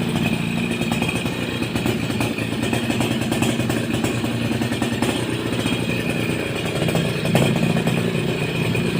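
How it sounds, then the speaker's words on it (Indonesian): A Suzuki RC100 motorcycle engine idles smoothly and steadily at close range, a continuous low mechanical hum with light clatter and no talk over it. "Mesin halus."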